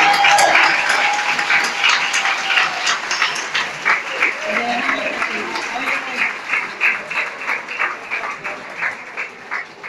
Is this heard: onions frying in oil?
no